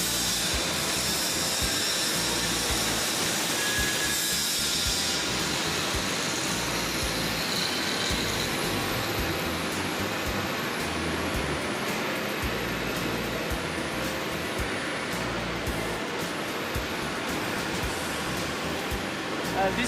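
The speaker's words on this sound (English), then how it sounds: "It is our Pro-Beam extrusion machine." A Polystar Pro-Beam plastic extrusion line with a four-die head runs in a factory, giving a steady, loud broadband hiss and mechanical rumble that stays dense and unbroken throughout, with faint voices beneath.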